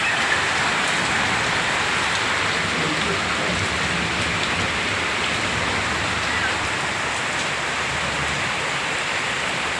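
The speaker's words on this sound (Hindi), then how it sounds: "बहुत बारिश हो रही है" Heavy rain pours steadily and densely on a village in Uttarakhand, India, a constant loud hiss of drops on surfaces with no voices.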